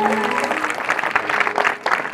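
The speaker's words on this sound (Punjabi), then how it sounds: "ਉਹ ਤਾੜੀ ਜ਼ਰੂਰ ਵਜਾਓ ਇੱਕ ਵਾਰੀ ਖੁੱਲ ਕੇ ਲੱਭ ਕੇ।" Audience applause at a live Punjabi comedy show, steady dense clapping from a large crowd throughout, loud and continuous with a brief dip near the end.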